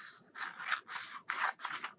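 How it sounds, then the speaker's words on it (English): Scissors cut through paper along dark printed lines in four or five close, raspy snips, each a short rustling crunch separated by brief pauses, with no voices. "You're going to need your scissors for this. And you're going to start by cutting on all the dark black lines."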